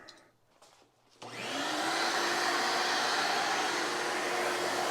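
After a brief quiet moment, a vacuum cleaner switches on with a rising whine and keeps running loud and steady at close range.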